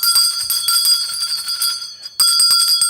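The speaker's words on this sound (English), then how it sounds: "Ring your bell." A hand bell rings at a New Year's party, repeated bright metallic strikes with sustained ringing tones, a brief pause, then another loud burst of ringing.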